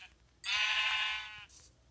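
A sheep bleats once in a video game, a loud, wavering, nasal call of about a second, followed by a fainter short tail, with no talking.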